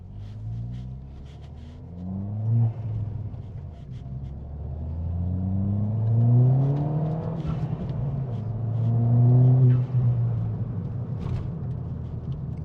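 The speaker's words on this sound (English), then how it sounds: "can never get bored of the sounds that this car does make though" A loud, throaty engine of a modified Ford Fiesta ST180 with TRS Stage 2 tuning revs repeatedly, rising and falling in pitch with rumbling bursts, close by and without talk.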